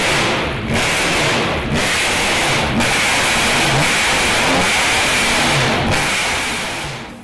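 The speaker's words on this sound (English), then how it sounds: "in the load bay is a supercharged 3-litre V6 Cosworth engine" A Ford Supervan 3 with a supercharged 3-litre V6 Cosworth engine revs loud and close, a dense sustained roar with brief dips between pushes on the throttle and no talking.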